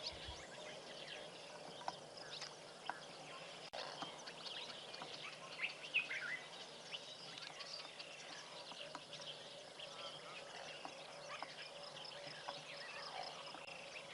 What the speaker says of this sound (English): Dark-capped bulbul, some of you might know there's a black-eyed bulbul calling.